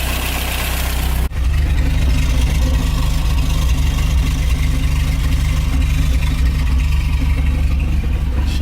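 A 1979 Toyota pickup engine fitted with a new header and exhaust idles steadily with a deep, rumbling exhaust note, close and constant, after a brief sharp cut at the start.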